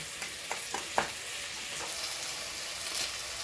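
Masala spices heat in a pan over a low flame, crackling and sizzling steadily up close with a few slightly louder pops and stirring scrapes.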